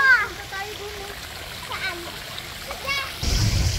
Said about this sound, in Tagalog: ito na po yung shower